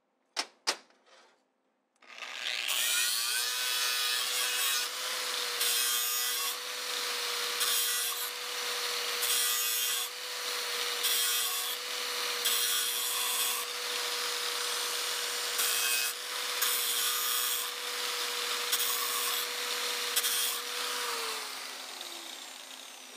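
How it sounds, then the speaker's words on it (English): The freshly cut end of a metal threaded rod is cleaned up by hand for a homemade dump truck tailgate latch, giving repeated rasping, scraping strokes in an uneven rhythm, close and fairly loud, with no speech. "I just showed you how I clean the end of the thread after I cut it."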